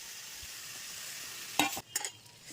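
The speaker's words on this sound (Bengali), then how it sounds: "মশলাটাকে চিংড়ি দিয়ে আর একটু ভালো করে কষিয়ে নিলাম।" Spice paste with prawns and fried taro is stir-fried in a pan: a steady close sizzle, then a couple of louder scraping stir strokes near the end, with no voices.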